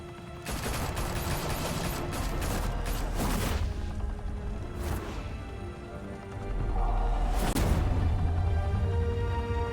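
Gunfire in a Batman video game sounds as loud, dense bursts of rapid shots with heavy crashing impacts, fading briefly and then swelling again in a sustained barrage.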